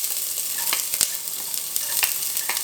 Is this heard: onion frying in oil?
yes